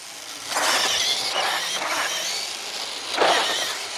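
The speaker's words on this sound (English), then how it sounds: "Look at the burnout." An FMS 1941 Willys MB 1:6 scale RC crawler doing a burnout, its electric motor whining in rising and falling bursts, with a sharp surge near the end.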